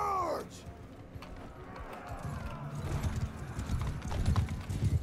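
A horse gallops through a battle in the game Mount and Blade II: Bannerlord, hoofbeats building under a thick wash of fighting noise and crowd din, with a brief sharp sound at the start.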